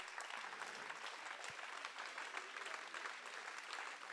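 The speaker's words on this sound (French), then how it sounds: "les applaudissements de toutes les personnes ici présentes montrent bien l'émotion qui a été partagée" An indoor audience applauds in a dense, steady wash of clapping that lasts throughout, loud and close, with no talking.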